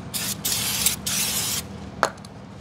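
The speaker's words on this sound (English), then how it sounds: "You want to give it a nice spray of that around." Two long bursts of aerosol spray hiss in quick succession, close by, on a Ford AU Falcon turbo car part, followed by a short click and a faint rattle.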